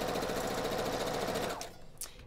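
A home sewing machine stitches over pins in a fast, even mechanical chatter, then stops abruptly, leaving a couple of faint clicks.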